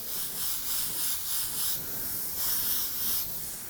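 Steady hissing spray bursts of candy green paint, close and continuous, with slight pulsing in intensity over a few seconds.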